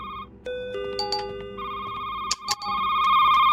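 Telephone ringing in a video game, bright electronic trills and tones layered over a low background hum, the rings swelling louder toward the end with short breaks between bursts.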